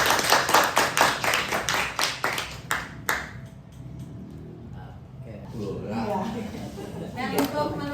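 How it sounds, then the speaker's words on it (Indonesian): A small group claps in a quick, rhythmic burst of distinct, close claps for about three seconds, then it fades out and soft talking follows. "Berikan tepuk tangan."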